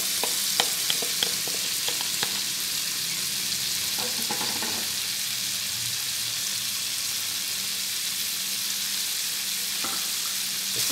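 Chicken with vegetables and spices frying in a pan, giving a steady soft sizzle with a handful of light clicks and scrapes from stirring, fairly quiet and without voices.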